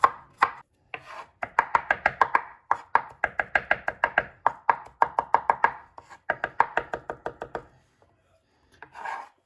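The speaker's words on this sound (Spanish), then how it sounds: "Voy a picar los ajos, los 4 ajos." Four garlic cloves are finely minced with a knife on a cutting board in a fast, close, rhythmic run of sharp chops, broken by short pauses.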